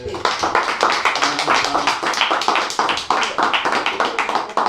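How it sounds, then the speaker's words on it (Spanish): A church congregation claps together in praise, a dense, steady patter of hands at close range, mixed with voices and shouts throughout. "démosle un aplauso al Señor"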